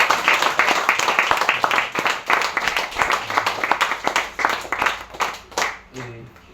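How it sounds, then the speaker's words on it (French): Church congregation clapping steadily in rhythm during a French-language service, a dense, loud run of hand claps with voices mixed in underneath. "on applaudit le Seigneur Jésus"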